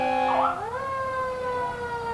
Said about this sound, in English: All those sirens blowing